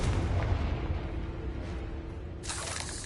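An explosion from the Confringo fire spell in Hogwarts Legacy bursts out as a sudden, bright crackling blast near the end, over a continuous low rumbling background.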